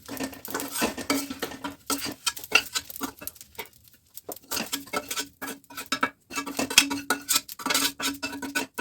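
Fried wheat flour and edible gum are scraped out of a pan into a large plate for laddoos, giving repeated metallic scrapes, taps and soft patters in uneven bursts with brief pauses, close and fairly loud, with no talking.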